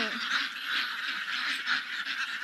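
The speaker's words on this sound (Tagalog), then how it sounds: "Itik, itik. Ayun yung may-ari ng itik" Ducks calling nearby, a run of nasal quacks and honks in quick uneven succession, moderately loud with no talk over them.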